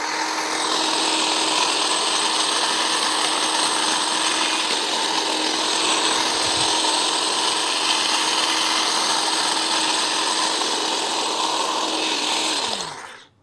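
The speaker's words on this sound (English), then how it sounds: "Let's go ahead and try and just trim this part a little bit flat and see how this works." A Dewalt 20V Max 22-inch cordless hedge trimmer (DCHT820B) cuts a hedge, its steady high buzzing whine running close and loud for over twelve seconds before it cuts off, with no talk.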